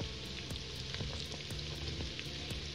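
Carrots sizzle and fry in a pan with softened onion for Hungarian bograch goulash, a steady quiet crackling hiss dotted with regular sharp pops and spits.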